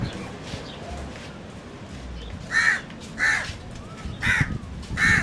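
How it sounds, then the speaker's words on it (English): Crows caw in loud, separate bursts, about four calls spaced a second or so apart, while the birds are fed in Mombasa, Kenya, over a steady outdoor background hum. "feeding the birds"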